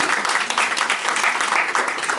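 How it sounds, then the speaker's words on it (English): Audience applause at a science lecture fills the room, a dense, steady wash of clapping that holds at an even level for its whole short length with no voices over it. "Keep clapping, I might need you"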